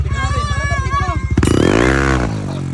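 A motor scooter engine idles with a steady putter, then revs up loudly and holds a rising roar before easing back, with voices talking over it.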